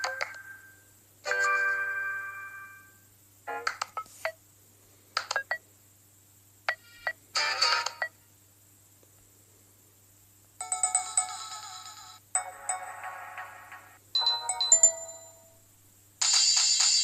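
Several brief electronic phone tones on Sailfish OS sound in turn, chirps, trills and beeping jingles, each followed by a short silence.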